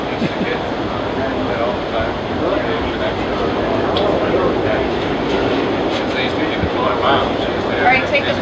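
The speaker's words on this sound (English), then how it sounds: "This is our view on the train." Steady rumble and rattle of an Amtrak passenger train rolling toward Glacier National Park, heard from inside the car with continuous clatter of the wheels on the rails and a voice talking over it.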